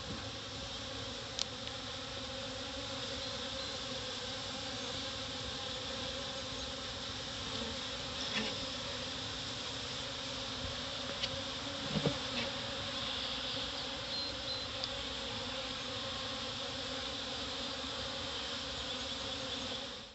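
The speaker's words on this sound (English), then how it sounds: "Alright, I got the bees running into this tote." A dense, continuous drone of a honeybee swarm being moved into a tote in early morning, steady and close throughout, with occasional louder individual bees passing by.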